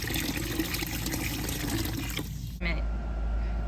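Slurry poured into the skimmer intake of a fiberglass pool while the pump runs, a loud continuous watery rush that cuts to a lower, deeper gurgle partway through.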